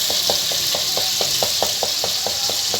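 Tomatoes fry in separated oil in a karahi for beef karahi gosht, a loud steady sizzle punctuated by about a dozen evenly spaced spoon scrapes, close and with no voices.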